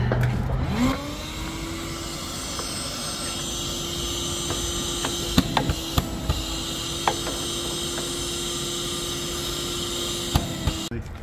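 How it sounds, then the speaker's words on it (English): A steady, droning vacuum cleaner hum runs throughout, joined by a few scattered clicks and knocks near the end. "their handy dandy little vacuum, but he'll get all this cleaned up"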